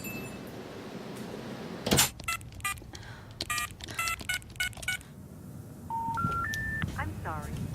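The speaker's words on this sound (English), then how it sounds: "I'll phone them from the office." A telephone number dialed on a touch-tone phone: a quick run of electronic tones in an irregular rhythm, close and clear, with a clunk at the start and a rising set of beeps near the end.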